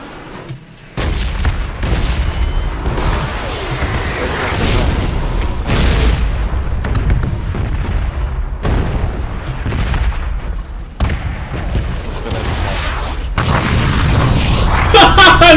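A bomb explodes in a video game, heard as a dense series of loud booming blasts and rumbling bursts that continue for several seconds, with voices faintly underneath.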